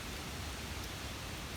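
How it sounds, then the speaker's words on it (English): Light rain begins falling in a garden, giving a steady, soft hiss of drops that stays even and faint throughout with no talking. "Oh, it's starting to rain."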